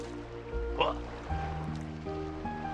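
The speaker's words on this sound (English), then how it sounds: "Tranquil sound of waves does it to me every time." Gentle ocean waves in the Chrono Cross video game wash steadily beneath layered music tones, a soft continuous surf bed with a brief brighter swell near the start.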